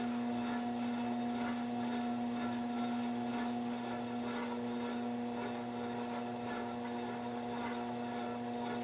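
A potter's wheel spins steadily while clay is shaped into a wide serving dish, giving a faint, constant motor hum with a soft whirring texture and no other sounds.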